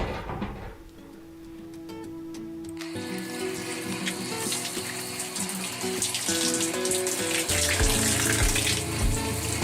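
Water runs from a Camplux portable tankless water heater, a splashing flow that starts softer and swells into a loud, steady gush within a few seconds, close by and without talk.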